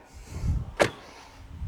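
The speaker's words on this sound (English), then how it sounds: "First, the usual sound check. It's a pretty solid door." A 2020 Alfa Romeo Giulia TI door shuts once with a single solid, close thud that stands out against a quiet background.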